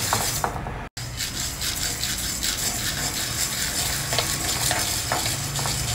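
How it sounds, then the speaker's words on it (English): Coriander seeds dry roasting in a pan, stirred continuously with a dry scraping, rattling rub and light sizzle, steady and close, with one sharp cut near the start and no voices. "Next add in 1/4 cup of coriander seeds, that is Dania seeds. Dry roast this also."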